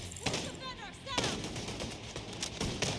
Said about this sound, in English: blind fire M700 to the rescue